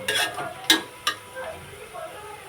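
Onions sautéing in a pan for pulao give a faint, soft sizzle, with a few brief spoon clicks and scrapes near the start and quieter stirring after.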